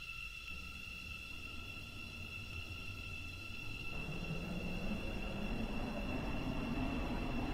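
A five-coach train runs along the line in the Roblox game Stepford County Railway, a steady rumbling roll with a high whine that grows louder and rougher partway through as it speeds up.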